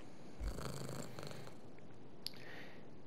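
A kitten purrs softly in the dark fantasy video game Moonscars, a faint, steady low rumble heard close and alone, with a few light clicks and brief game sounds over it.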